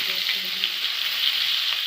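Datina fish fry in a pan with a loud, dense, continuous sizzle and crackle that holds steady close up, with no talk over it.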